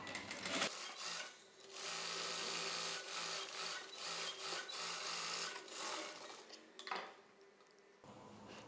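An electric sewing machine stitches a blouse belt in bursts, its rapid needle chatter starting and stopping several times, close and fairly quiet, with brief pauses and fabric handling between runs.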